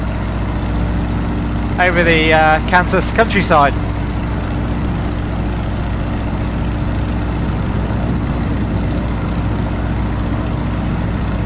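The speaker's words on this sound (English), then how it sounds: "with that engine purring away up in front of us" A Stearman PT17 biplane engine in Microsoft Flight Simulator drones steadily and evenly throughout, a low continuous hum beneath a voice speaking briefly near the start.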